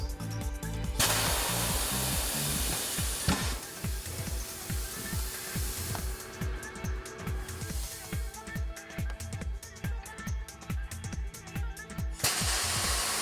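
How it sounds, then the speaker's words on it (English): A TWIN BUSCH TW X-31 tyre changer's pneumatic bead breaker loosens a tyre from its rim, with rapid rhythmic thumping pulses under a steady hiss of air and bursts of louder blowing at the start and end. "The tire is loosened from the rim with the bead breaker."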